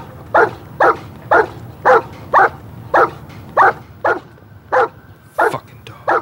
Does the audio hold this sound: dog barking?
yes